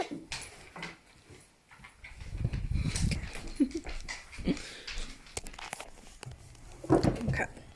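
A dog whimpers and pants nearby, with soft breathy pants and short whines mixed with handling noise and rustling.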